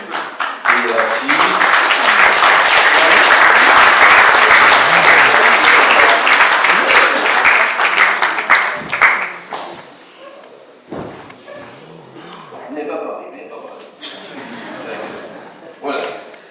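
An audience at a mayor's New Year greetings ceremony in Saint-Claude applauds two new municipal staff members. Loud, sustained clapping lasts about nine seconds, then fades out as a voice resumes talking.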